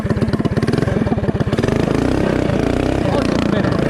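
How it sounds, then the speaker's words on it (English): A newly built Predator-engined minibike idles roughly with an uneven, loping pulse that settles into a steady, loud, close chug, with a person talking over it. "we got the new bike. It's idling a little rough."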